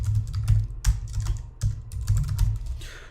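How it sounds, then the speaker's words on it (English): Commands are typed on a computer keyboard in a Windows command line, a close run of crisp key clicks in uneven bursts with brief pauses, with no voices. "So I'm just going to type in T-Shark,"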